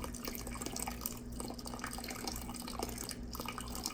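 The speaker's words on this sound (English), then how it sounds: "I'm trying to pour it slowly enough that the ash is not kicked up from the bottom of the pan" Wood ash nixtamalization liquid with corn is poured slowly from a pan, making a soft continuous trickle and gentle splashing, quiet and steady throughout, with no talking.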